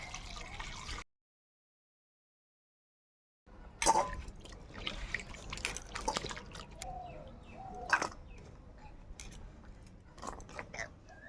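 Water poured over chopped carrots to wash them, soft splashing and dripping with brief louder gushes after a short silent gap, close and fairly quiet.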